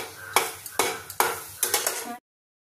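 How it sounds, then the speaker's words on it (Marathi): Cooked lentils being stirred and roasted in ghee in a pan for motichoor laddoo: a series of four or five scraping, sizzling strokes of a spoon against the pan, close and distinct, ending abruptly in silence. "आता ही छान अशी या तुपामध्ये आजीने भाजून घ्यायला लावलेली आहे"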